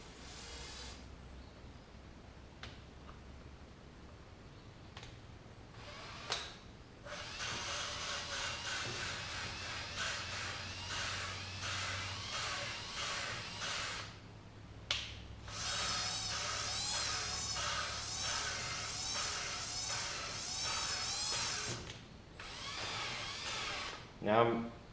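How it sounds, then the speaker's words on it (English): A drill spins a flexible abrasive hone with a liquid-sandpaper finish inside a small-block 305 cylinder head at low speed, grinding and rasping in long stretches, broken by short pauses between runs. "Now I'm running the drill in both rotations, just kind of I got on low speed now."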